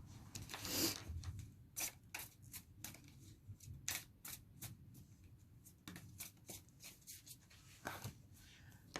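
Tarot cards are shuffled by hand in a quiet room, giving a faint run of soft, irregular flicks and riffling snaps spread across several seconds.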